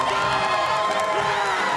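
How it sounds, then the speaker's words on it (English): A packed arena crowd at a Nebraska versus Minnesota college volleyball match in Lincoln roars in loud, sustained cheering with shouts and whoops blending into a continuous wall of noise. "Great crowd here in Lincoln."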